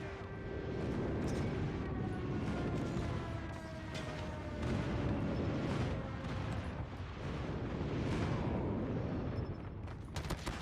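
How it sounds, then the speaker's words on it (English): Distant, muffled explosions from an airstrike in a shooter video game, a steady rumbling barrage of booms and crackling gunfire under a constant hum, with no clear talk. "Friendly airstrike incoming."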